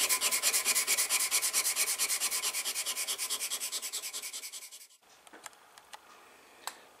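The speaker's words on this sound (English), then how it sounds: "put my lubricant on them and start back with the stones" A knife blade is hand sanded on lubricated sharpening stones in steady, even back-and-forth strokes, a close, rhythmic rasping that runs for about five seconds, then stops, leaving a few faint taps and clicks.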